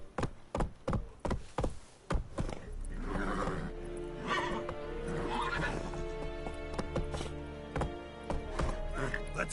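Roach the horse in The Witcher 3: Wild Hunt on PS5 gallops with a rapid, close clip-clop of hooves, then gives a loud, drawn-out neigh over a steady game soundtrack.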